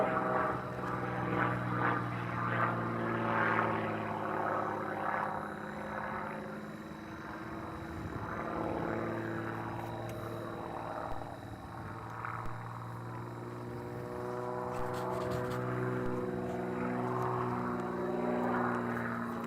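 A power sportsman aerobatic propeller airplane drones steadily overhead while flying, with engine pitch rising and falling through maneuvers, continuous and moderately loud throughout.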